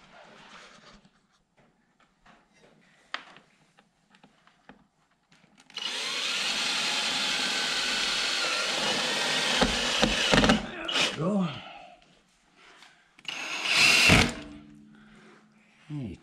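Power drill driving screws into an aero kit panel on a C7 Corvette, a loud sustained whirring burst of several seconds followed by shorter bursts, with faint handling noises between.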